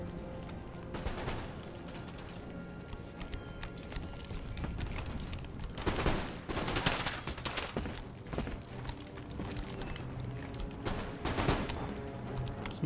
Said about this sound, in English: Fire rapid shots into them